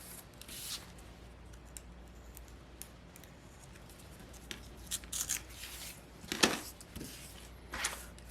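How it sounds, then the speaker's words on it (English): Scissors snip through sewing pattern paper and fabric pieces, a few soft, brief cuts close by with light rustling and quiet gaps between them. "Fill in my seam allowance over here. Cut everything out again."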